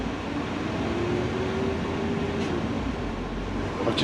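A city bus ride in Vilnius, Lithuania: a steady loud interior rumble of the moving vehicle with a rising and falling engine whine, a few faint knocks near the end, no voices.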